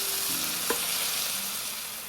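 Chopped tomatoes fry in a pan with sautéed ginger garlic paste, a soft steady sizzle with a brief stir or scrape of a utensil partway through, quiet and with no talking.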